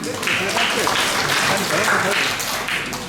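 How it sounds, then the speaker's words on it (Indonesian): Attendees of a civic organisations' capacity-building gathering in Semarang clapping together, a loud, dense and continuous applause filling the room, with some voices mixed underneath. "Dan kita berikan tepuk tangan untuk kita semuanya."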